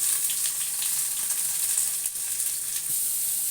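Garlic, green chillies and onion sizzle steadily in hot oil in a pan, a dense close hiss with light crackles and no voices.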